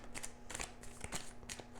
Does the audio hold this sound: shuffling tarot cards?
yes